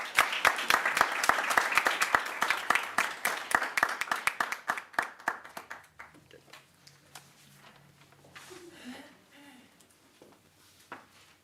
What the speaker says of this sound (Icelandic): gefum honum bara gott klapp aftur